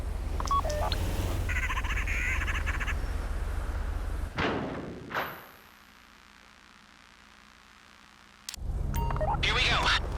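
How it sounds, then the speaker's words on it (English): In GTA Online's Fleeca Heist, a phone dials to trigger the bank vault door: short electronic keypad beeps come first, then a sharp transition and a hushed pause before the game ambience returns loudly. "Take out your phone and trigger the door."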